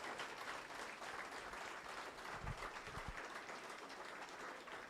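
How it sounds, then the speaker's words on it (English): A standing audience claps steadily at a campaign launch event as a professor comes to the podium; the applause sounds thin and distant, continuous throughout, with a couple of low thumps partway through. "we shall clap. Clap heartily."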